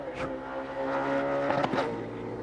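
A touring race car at the Bathurst 1000 screams at high revs, its engine bouncing on the rev limiter with stuttering cuts near the end.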